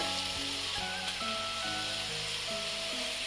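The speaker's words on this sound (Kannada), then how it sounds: "ಎಣ್ಣೆಲೆ ಫ್ರೈ ಮಾಡ್ಕೊಳ್ಳಿ. ನೋಡಿ, ಚೆನ್ನಾಗಿ ಫ್ರೈ ಮಾಡಿಕೊಂಡು" Vegetables for veg fried rice fry in hot oil with a steady, dense sizzle throughout, joined by faint tonal hum and occasional stirring ticks.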